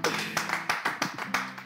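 A church audience claps for the pastor in a close, even rhythm of sharp hand claps, about three per second, over a faint steady tonal background.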